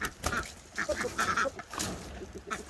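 Several ducks quack in short bursts, fairly close and repeated irregularly over a faint background.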